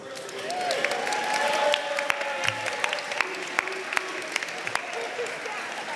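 A banquet crowd at a bar association installation gives sustained applause for a section president, dense clapping filling the room with sharp individual claps standing out, while some voices murmur underneath.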